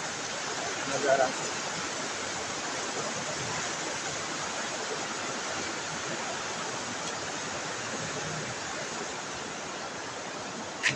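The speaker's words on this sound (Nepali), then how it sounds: "सेती नदीको साउन्डले गर्दा केही आवाजै नसुन्ने होला" Seti River rushing beneath a bridge at Simar Bagar in Bajhang, Nepal, gives off a steady, loud broadband roar of turbulent water that fills the whole stretch, with a brief voice cutting in once.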